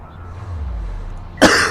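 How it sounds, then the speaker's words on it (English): A single sharp, close cough from a commentator casting a Kharak Cup match. It bursts out near the end after a stretch of low, rumbling background sound. "now I'm coughing because I'm so sad about that."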